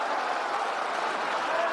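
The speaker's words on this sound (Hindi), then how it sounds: "और महिषादल के प्रत्याशी सुभाष पांजा जी के लिए जोर से ताली बजाओ जरा।" Crowd applause at an outdoor political election rally in Chandipur, West Bengal, a steady dense wash of clapping from a large audience, continuous and fairly loud throughout.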